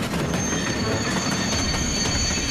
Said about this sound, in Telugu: త్వరగా ట్రైన్ ని స్లో చేయండి.